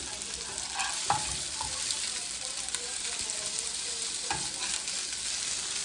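Fish cakes sizzle and crackle steadily in hot oil, with a few sharper pops and light scraping, close and moderately loud.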